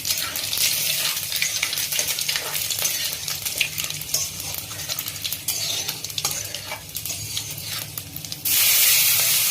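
Panch phoron spices frying in hot oil in a wok: a steady, close sizzle with frequent scraping and clinking from a stirring spoon, ending in a louder burst of hissing, with no talking.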